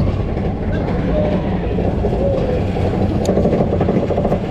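A roller coaster train at Parc Astérix rumbles and clatters steadily along its track through corkscrews, a loud continuous roar with rattling throughout, with a faint voice underneath.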